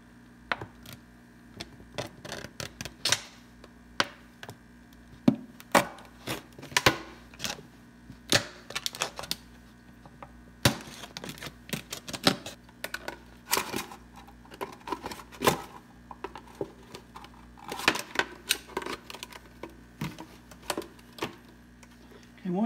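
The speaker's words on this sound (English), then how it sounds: "we're going to cut this top off." The top of a container for a brine shrimp hatchery is cut off, giving irregular sharp snips and clicks, close and fairly loud, spread through a long stretch with short gaps.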